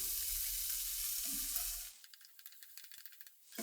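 Garlic with green and red chilies frying in a pan for a white-sauce pasta, giving a steady loud sizzle that cuts off partway, followed by a few light clinks and stirring rattles.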